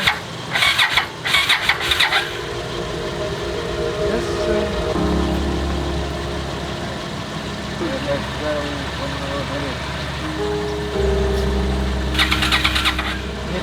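An old Honda Ascot motorcycle engine, unused for about a dozen years, is cranked and catches, settling into a steady idle, with bursts of cranking and rattling at the start and end.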